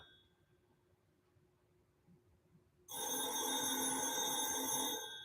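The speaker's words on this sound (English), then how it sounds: "Excuse my loud house phone." A loud house phone rings from about three seconds in, its bright electronic tone sustained and steady after a quiet start with faint background noise, no talking over it.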